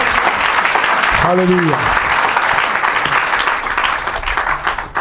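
Applause fills a church service with loud, dense, continuous clapping from a crowd, as a voice calls out over it.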